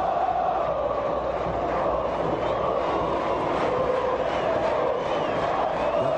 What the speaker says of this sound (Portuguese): E a torcida do São Paulo não para de cantar.